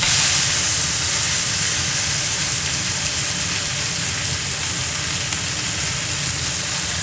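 Steak sizzles loudly and continuously in a scorching hot cast iron pan, a dense, steady frying hiss with no pauses and no talking.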